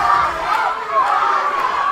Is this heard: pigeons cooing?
no